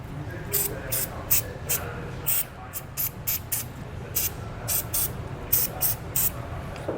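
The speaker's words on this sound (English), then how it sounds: "I'm going to go ahead and just put a little bit of penetrating oil on all the nuts" Penetrating oil sprayed from an aerosol can onto the nuts of trailer hitch hardware, a string of short, sharp hissing bursts with brief gaps between them, close and loud.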